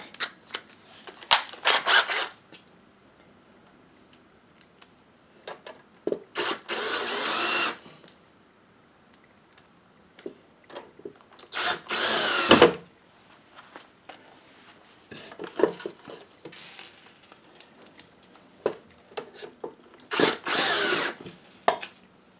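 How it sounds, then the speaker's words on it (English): A power drill drives into wood while building a hinged-side soap mold, in several short separate bursts spread across the stretch, with handling knocks and quiet gaps between. "sometimes this drill has me going in at an angle"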